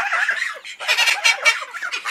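Fowl birds at an animal rescue gobble in rapid, bubbling bursts, several calls close together and fairly loud, with no talking.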